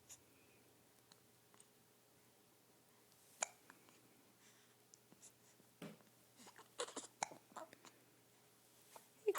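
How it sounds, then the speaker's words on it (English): Small child hiccupping at home, several faint, sharp hiccups scattered through a quiet room, with soft rustles between them. "Hiccup."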